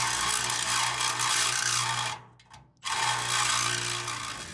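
A power tool enlarges the center hole for a link arm bushing in metal on a 1955 Chevy truck rear suspension, a loud, harsh grinding rasp that drops out briefly mid-clip and then resumes at full strength.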